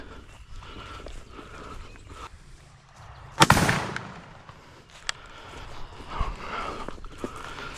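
A single loud shotgun blast fired with a TSS turkey load cracks out during a public-land turkey hunt, then fades amid rustling outdoor ambience and faint movement.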